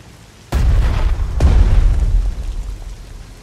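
Two heavy artillery shell explosions in the strategy game Strategic Mind: Fight for Freedom, each a sudden loud boom with a long rumbling tail, the second following about a second after the first.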